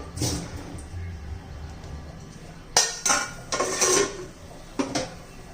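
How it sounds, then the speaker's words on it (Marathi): A metal lid is set onto a cooking pot of drumsticks and lentils, making a few close, bright clanks and clinks after a quiet stretch of soft kitchen noise. "आता याच्यावर आपण झाकण ठेवून देऊया."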